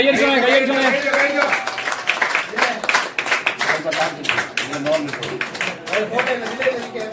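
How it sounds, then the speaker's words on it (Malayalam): A family claps hands during an Onam celebration at home, a scattered run of sharp claps mixed in with lively voices talking nearby. "കൈയടിച്ചോണേ"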